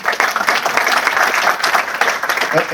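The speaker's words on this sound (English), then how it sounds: "how about a round of applause for Endeavor?" Audience applause for Endeavor at a business talk with the Prosus CEO, a brisk, fairly loud burst of many hands clapping in a dense, slightly uneven patter.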